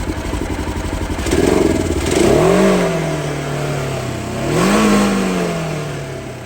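A Polaris side-by-side engine with worn oil idles close by, revving up twice, with a faint ticking tap running under the rhythmic motor sound.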